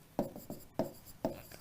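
A hand writes on a board or paper in three quick rhythmic bursts of scratchy strokes, close and fairly soft, with no talking over them.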